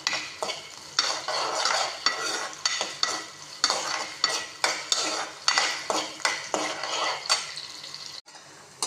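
A utensil stirs ginger and garlic sautéing in oil in a pan for a ginger chutney, with repeated rhythmic scraping strokes over a steady sizzle, close and loud, with no talking.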